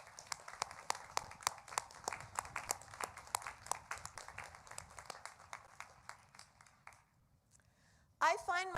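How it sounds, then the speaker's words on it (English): Sustained applause from a commencement audience honoring university faculty at a doctoral ceremony, dense steady clapping for about seven seconds that fades out, followed by a voice. "Let's acknowledge them with a round of applause"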